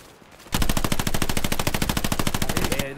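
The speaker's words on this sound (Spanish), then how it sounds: "¿Escucho una MG por ahí?" Sustained rapid machine gun fire in the World War II shooter Hell Let Loose on Omaha beach, a loud, fast and steady stream of shots that runs for over two seconds without pause.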